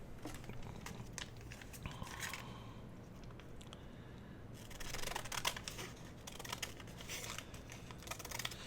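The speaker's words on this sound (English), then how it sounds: "And then for this side, I think I'm just going to cut it." Scissors snip through a paper bag to make lace trim, quiet close crisp cutting clicks in short runs amid a low steady background hum.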